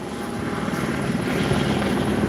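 Helicopter circling overhead during a search after a downtown Los Angeles standoff, a steady, fairly loud rotor thump and engine drone that holds throughout with no voices.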